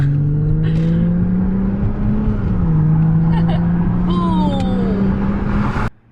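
A Mercedes C300 with its mufflers cut off idles and revs through a straight exhaust, giving a loud, steady close-up drone with a couple of rising throttle blips before it cuts out abruptly.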